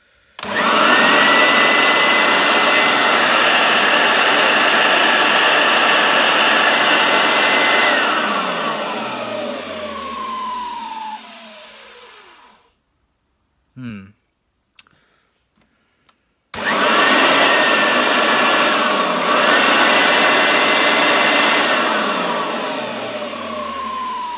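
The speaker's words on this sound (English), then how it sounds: "That is still a screechy motor." A Hoover Turbopower UB088 upright vacuum cleaner with a screechy motor runs loud and whining, spins down, falls briefly silent with a few small clicks, then starts up again and winds down once more.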